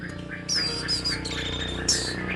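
Bright, high bird calls ring out close by in a quick series of squawky chirps and whistled notes.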